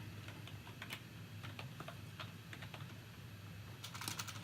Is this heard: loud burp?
no